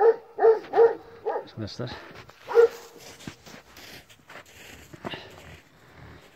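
A young Kangal puppy gives three quick sharp barks, then one more a moment later. The barks are close and loud, and someone talks over the quieter stretches between them.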